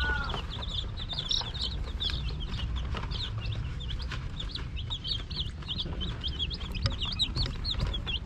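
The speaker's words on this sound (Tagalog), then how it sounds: "Mga sisiw na yan." Pure Rhode Island chicks chirp and peep nonstop, a dense, lively chorus of high, short cheeps close by over a low farmyard rumble, with no talking.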